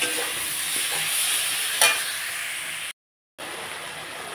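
Spices with ginger and chopped chili frying in a hot pan give off a loud, steady sizzle, with a brief clink of a stirring utensil partway through. No talk is heard.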